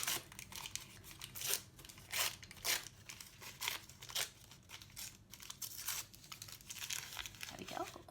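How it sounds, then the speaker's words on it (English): Coloured paper ripped by hand for a collage, a run of crisp crinkling tears in short bursts of varying length, close up, with brief pauses between rips. "And for a door, again, you can rip with your hands."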